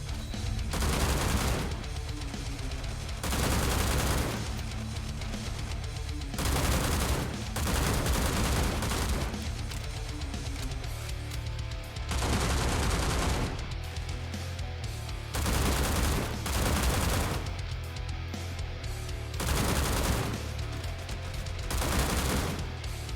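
Bursts of rapid machine gun fire from the video game World War Heroes, several loud volleys separated by brief pauses, with a low rumbling backdrop throughout.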